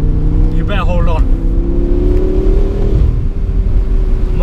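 A BMW F10 M5 Competition's engine sounds steady and loud from inside the car, its pitch climbing gradually as it revs toward the top of the range, with a brief voice over it early on.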